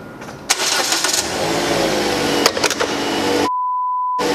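Car engine cranked by a starter motor running on super capacitors, a loud, continuous churning whir lasting several seconds with a few sharp clicks, cut off abruptly and followed by a steady electronic beep.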